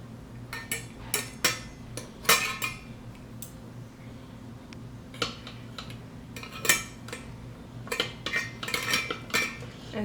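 Metal rice pot lifted out of an Instant Pot and set on a trivet, with sharp metallic clinks and scrapes of cookware in scattered bursts over a steady low appliance hum, close and fairly loud.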